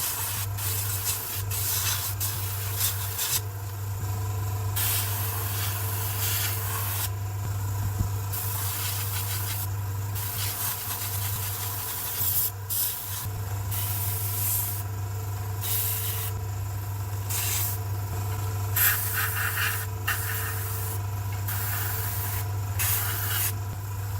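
Airbrush hissing paint in a second weathering layer onto a Challenger main battle tank scale model, a steady close airy spray broken by short pauses and restarts over a constant low hum.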